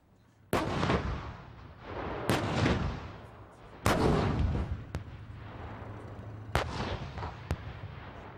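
Tank gunfire booms across the Dorset firing range at Bindon Hill, four or five heavy distant shots spaced a second or two apart, each with a long rolling decay.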